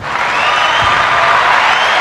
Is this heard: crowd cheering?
yes